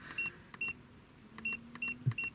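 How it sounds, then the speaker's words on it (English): Short high electronic beeps from an iCarsoft CR Plus car diagnostic scanner as its buttons are pressed, five or six brief tones in an irregular rhythm, close and fairly quiet over a low hum. "You may be able to pick up a little beep when I'm pressing the buttons"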